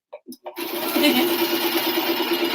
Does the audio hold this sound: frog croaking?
no